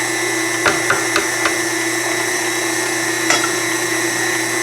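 A food grinder working through beef liver and onions drones steadily and loudly, its motor hum broken by a few sharp clicks and knocks, with no one talking.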